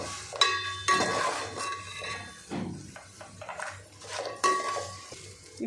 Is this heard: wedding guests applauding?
no